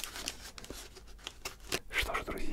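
A plastic parcel bag from a mail delivery is torn and rustled open by hand, with crisp crinkling and tearing bursts over a couple of seconds, close and fairly quiet, with no talking.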